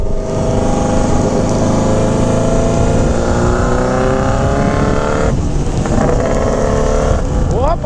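Yamaha XJ6 motorcycle with turbo, tuned for half-mile racing at an air base, engine running loud and steady with rising revs and a sharp throttle change near the end, continuous and close.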